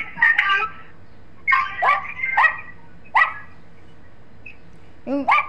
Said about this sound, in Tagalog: Yung aso mo puro tahol-tahol ah.